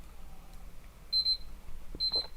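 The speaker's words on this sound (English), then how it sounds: "That's the timer. That's telling me we should be done." A kitchen-style countdown timer alarm beeps in two short bursts of high electronic tones at moderate level, with faint low rumble and a small thump between them.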